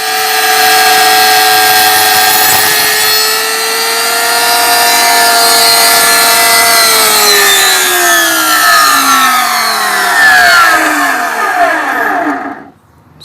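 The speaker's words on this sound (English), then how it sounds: "I'm going to start up the rotor now and then cut the notch." A router cuts a notch into a wooden beehive frame board with a loud, continuous high whine that shifts in pitch as the bit bites into the wood, then stops abruptly near the end.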